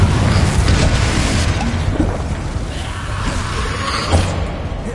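Confringo fire spell going off in Hogwarts Legacy on PS5, a dense boomy blast with crackling debris over continuous game rumble, a second thump near the end.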